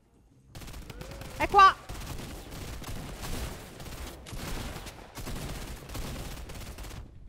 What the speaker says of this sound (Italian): Mi spara dall'alto.